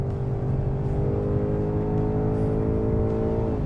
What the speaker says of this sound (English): God, the 10-speed really likes to rip off shifts.